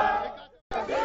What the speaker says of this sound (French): Une foule venue visiblement de très loin s'empare des lieux.